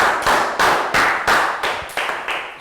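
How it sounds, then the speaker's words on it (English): A Year 3 maths class claps together in a steady unison rhythm, about eight sharp, evenly spaced claps that ring briefly in the classroom. "Big round of applause for Lakgal"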